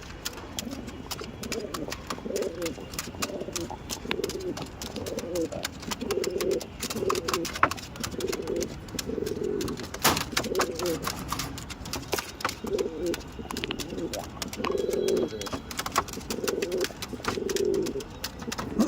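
A Kolkata bloodline pigeon pair coos repeatedly in a steady, rhythmic series of low burbling calls, close by, with faint background noise and occasional clicks throughout.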